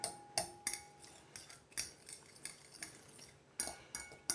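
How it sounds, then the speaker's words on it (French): A garlic, shallot, cheese and egg stuffing mixture being beaten in a bowl, a quiet series of rhythmic clinks and taps from a utensil against the dish, evenly spaced and close, with no voices. "Il n'y a plus qu'à battre tout ça"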